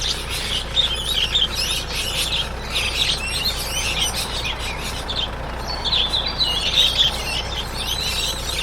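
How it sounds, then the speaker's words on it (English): Bird tweeting and chirping in the video game ISLANDS: Non-Places, a steady stream of small high chirps repeating throughout over a constant ambient background, with no talk. "Empty bird cages, tweeting noises"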